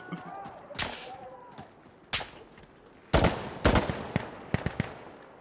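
Gunfire in the video game Insurgency: Sandstorm, with sharp single shots and short bursts cracking at irregular intervals, some loud and close, others fainter, with a voice talking briefly between them.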